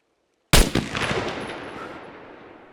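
One sharp rifle shot in the survival video game SCUM cracks loudly after brief silence, then rolls into a long fading echoing tail.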